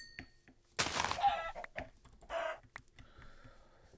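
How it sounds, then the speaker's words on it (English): Chickens clucking in a video game, a few short squawks and clucks in bursts over a quiet background, fairly close and clear. "Oh, I see some chickens over here."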